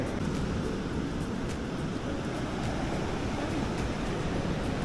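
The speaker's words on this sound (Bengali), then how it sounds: "সমুদ্রে কি সুন্দর ঢেউ।" Steady roar of ocean surf washing in continuously at Puri beach, broad and rushing with wind buffeting the microphone, no voices.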